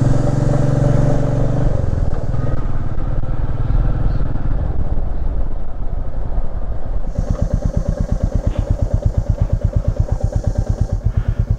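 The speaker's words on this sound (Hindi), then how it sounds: "मीटियोर भी सेकंड गियर में चढ़ पा रही है आराम से, उसको थर्ड गियर में वो भी नहीं जा पा रही ऊपर।" A Royal Enfield Meteor motorcycle climbing a steep hill road up to Sinhagad Fort in second gear, its loud engine thudding close, settling into a distinct rapid rhythmic chug over rushing wind.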